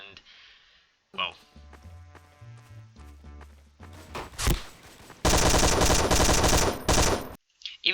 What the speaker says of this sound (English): I saw the tracer and I just sprayed a couple bullets